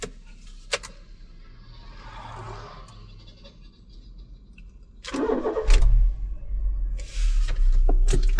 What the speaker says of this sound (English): So let's crank the motor.